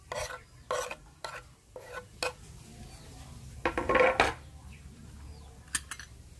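Vegetarian ribs are stirred and tossed in marinade in a bowl in a series of short, irregular scraping and clinking strokes, close up, with no talking.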